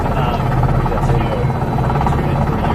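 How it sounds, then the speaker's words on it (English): A Navy helicopter flies close by, its loud steady rotor thump and engine drone running continuously with no break. "how to fly a helicopter like this"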